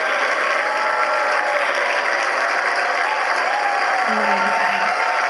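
A crowd applauds and cheers as a Starship rocket deploys its payload, a continuous wash of clapping heard at a distance, even and sustained for several seconds, with a voice talking faintly underneath.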